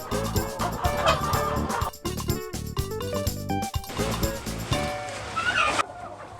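Kienyeji chickens in a poultry house with fresh wood shavings on the floor, clucking and calling amid steady music, with fowl voices surfacing near the end.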